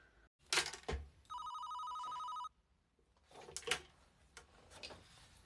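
A telephone bell rings once in a sustained metallic trill lasting about a second, between soft bumps and thuds as if someone handles things nearby, with faint indistinct sound around it.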